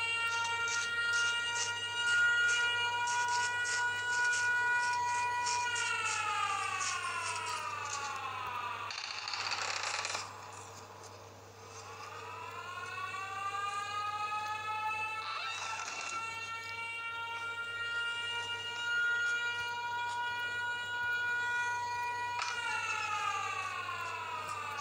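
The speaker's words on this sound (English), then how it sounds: "Stop the siren, dude." A wailing siren in the horror video game Mental Hospital V rises and falls in long sweeping cycles, loud and continuous throughout, with a steady low hum underneath and a brief dip around the middle.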